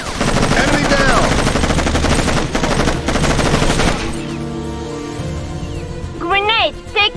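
Rapid automatic gunfire in the Raven Squad video game, loud and dense for several seconds, then easing into lighter bursts with game effects, while shouted voice lines play over it.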